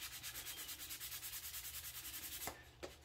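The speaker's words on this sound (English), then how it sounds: "Now, you're going to sand some of this off so you can see some of the wood through it." Sandpaper rubs steadily back and forth over painted Baltic birch on a wooden toy, wearing the paint down to show bare wood; close, even strokes in a fast regular rhythm, ending in a couple of sharper scrapes.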